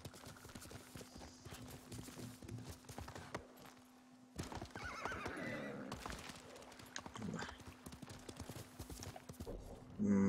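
A horse in Ghost of Tsushima neighs and its hooves clip-clop over game ambience, with a whinny mid-clip and steady hoofbeats, fairly quiet overall.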